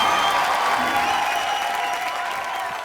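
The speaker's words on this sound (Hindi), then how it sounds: "कम ऑन, जोरदार तालियां इम्प्रोव डांसिंग के लिए" Studio audience clapping loudly and steadily for an improvised dance on a Hindi comedy show stage, a dense, sustained round of applause with some crowd noise that fades slightly toward the end.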